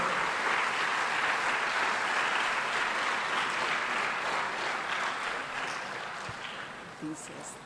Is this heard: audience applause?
yes